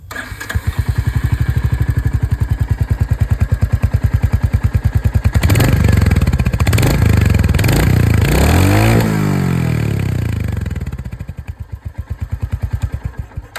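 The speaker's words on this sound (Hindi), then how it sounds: "अब मैं आप लोगों को यहाँ पर जो हंटर 350 की आवाज़ है ये भी सुना दूँ" A Royal Enfield Hunter 350 motorcycle engine starts and idles with a loud, rapid thumping exhaust, revs up several times, then settles back to a steady idle.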